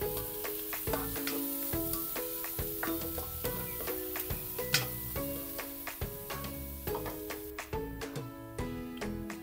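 Garlic and a large onion sauté in a pan for Bicol Express, giving a light sizzle with stirring ticks, mostly masked by a bright, plucked musical melody playing over it.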